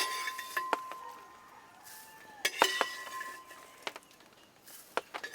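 A metal spoon scoops fried curry leaves from a pan while homemade Kerala sambar powder is being prepared, giving sharp, scattered clinks and scrapes against the pan with a faint sizzle between them.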